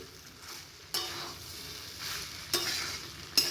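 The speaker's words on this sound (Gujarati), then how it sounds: "રાઈસ ઉમેરી લીધા પછી આપણે બધું જ અહીંયા મિક્સ કરી લઈશું।" Boiled rice and spices are stirred into a frying pan for veg pulao, with a constant close sizzle and three sharper scraping strokes of the spoon.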